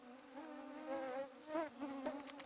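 Mosquitoes whine in a thin, wavering high drone that swells and fades as they pass close by, with no voices over the buzzing.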